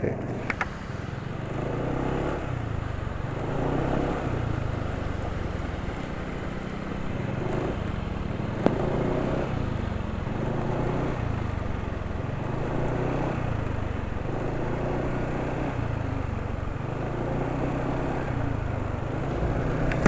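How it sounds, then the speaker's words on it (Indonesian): A motor engine idles steadily after an oil change with Win Power 10W40 oil, a close, even drone with a regular pulsing rhythm and one brief sharp click partway through. "Ini RPM mesin juga termasuk tidak cepat turun ya."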